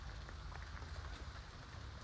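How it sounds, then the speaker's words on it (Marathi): A light monsoon drizzle patters softly and steadily on surfaces around paddy fields during rice transplanting, a faint, even hiss of small drops with no voices. "फायनली पावसाची रिमझिम चालू झाली"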